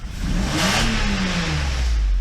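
A Mercedes S600 engine revs up after repair, its pitch climbing then easing off over a couple of seconds, loud and close with no talking.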